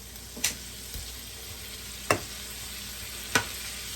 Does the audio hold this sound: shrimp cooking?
yes